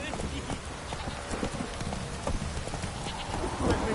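Roach the horse gallops in The Witcher 3 video game, a steady run of hoof clip-clops under game ambience and rain-like patter, with a voice speaking over the hoofbeats.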